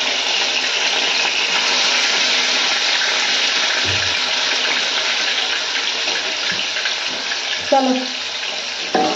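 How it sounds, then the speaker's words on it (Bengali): Running kitchen tap water pours steadily while hands are washed beneath it, a continuous close splashing hiss with a few brief clinks and a short spoken word partway through. "হাতটা ধুয়ে নিই, তারপর হাতটা ধুয়ে নিই একসাথে।"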